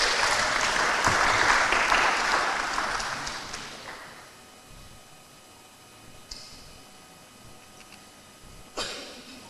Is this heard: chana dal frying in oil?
no